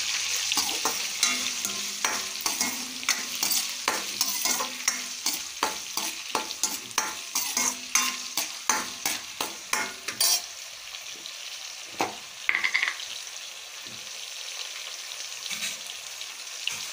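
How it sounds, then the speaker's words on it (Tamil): Tomato and onion frying in a pan for Tamil fish curry, a steady sizzle with frequent scraping and clinking of a spoon stirring against the pan, close and busy, then easing into quieter sizzling with a few light knocks. "அப்போ தான் தக்காளி வெங்காயம் சீக்கிரமாக வதங்கும்."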